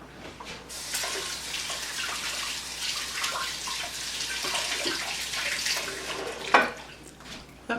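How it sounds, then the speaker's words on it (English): Tap water runs steadily into a sink as hands are washed beneath it, a soft continuous splashing with a brief louder splash near the end. "let me wash my hands."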